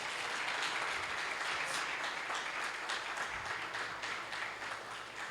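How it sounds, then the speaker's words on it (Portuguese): Applause fills a church worship service as the congregation claps for the King of Kings, a continuous, moderately loud crackle of many hands with a few faint voices mixed in, holding steady throughout. "Então aplauda o Rei dos Reis."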